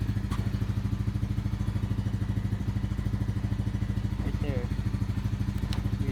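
A warmed-up Honda motorcycle engine idling steadily, a close, even, fast chugging pulse that holds without revving, with a faint voice briefly in the background.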